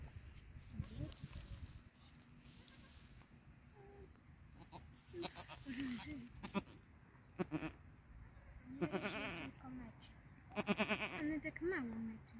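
Bleating from a newborn goat kid, several short, thin, high calls in the second half, close by, with quiet speech from people nearby.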